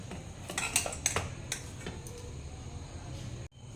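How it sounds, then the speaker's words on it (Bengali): Rested flour dough for Mughlai paratha is cut into portions, with soft taps and light clicks of a cutter against a board over quiet kitchen background noise. "এখানে ময়দার লেচিটা আমি কেটে নিচ্ছি।"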